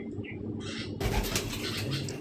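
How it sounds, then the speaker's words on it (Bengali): Madrasi pigeons in a home loft coo low and steadily throughout, with a sudden burst of flapping wings about midway. No one speaks. "আজ আমি আমার ঘরের কিছু পায়রা শখ করাচ্ছি।"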